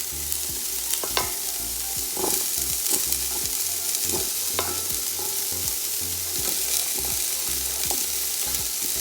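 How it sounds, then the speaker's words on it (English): Peppers and green beans stir-fried for mixed fried rice hiss loudly and steadily, broken by repeated sharp clacks and scrapes from tossing in the pan, with no speech. "I'm gonna go in now with my peppers and my green beans."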